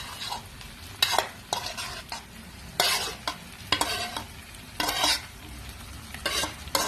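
Meat, tomato paste and spices fried together with carrot, onion and bell pepper, stirred in a pan: a low sizzle broken by repeated scraping spoon strokes at an uneven rhythm, close and fairly loud, with no talking.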